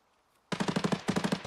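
Two quick bursts of rapid automatic gunfire after a moment of near silence, each a tight run of sharp shots, somewhat distant, in the video game Escape From Tarkov.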